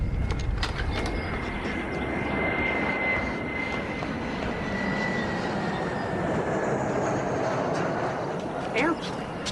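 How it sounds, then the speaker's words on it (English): Airplane engine droning steadily overhead with a long, even roar that holds throughout, plus a faint whine, and a brief bump near the end. "Airplane."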